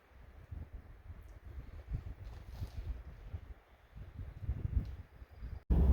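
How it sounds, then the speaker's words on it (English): Strong gusty wind roars against the microphone in low rumbling bursts, rising and falling, with no voices. "This wind is ridiculous today."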